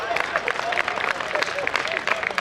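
Audience clapping and cheering at a comedy show, a dense burst of applause heard close, with a voice talking over it.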